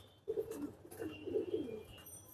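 A pigeon offered for sale, a moulting bird of a known bloodline, gives a couple of low, soft coos close by over a quiet hiss of background noise.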